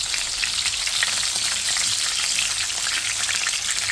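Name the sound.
chicken seekh kababs frying in a pan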